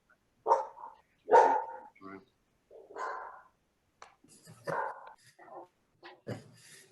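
A dog barks several times in short, irregular bursts, some yippy and whimpering, coming through a Zoom meeting connection during a county fiscal court session.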